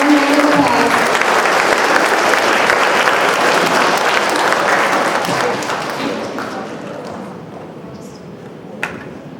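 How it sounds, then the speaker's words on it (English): An audience at a lecture applauds loudly and steadily, the clapping gradually thinning and fading toward the end. "Let's give another round of applause."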